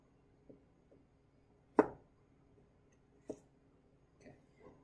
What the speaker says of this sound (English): This one I'll cut into thirds as well, just make it a little finer.